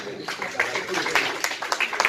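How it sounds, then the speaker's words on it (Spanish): Brief scattered applause at a conference event, a handful of claps rising under murmuring voices over about two seconds. "Así que un aplauso a don Ramón y a doña..."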